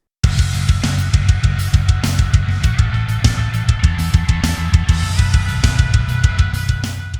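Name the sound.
clean electric guitar with reverb and delay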